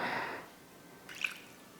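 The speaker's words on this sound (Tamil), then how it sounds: "மீன் வந்து எப்பயுமே நல்லா கழுவிடணும்" Water drips and splashes softly while cleaned fish is rinsed, with a short wash of running water at first and then a single close drip.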